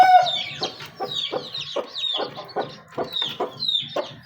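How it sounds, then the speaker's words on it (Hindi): Hens cluck and newborn chicks peep in winter, close by, in a quick run of short clucks mixed with high chirps. "ये हम निकालते हैं अपनी पॉकेट से चूजे।"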